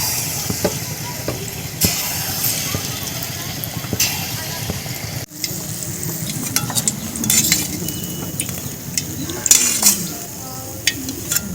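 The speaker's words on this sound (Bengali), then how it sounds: "সব বড়াগুলো ছেড়ে নেব।" Palm fruit fritters (taler bora) fry in hot oil with a steady sizzle, while a utensil clinks and scrapes against the pan and a voice speaks over it.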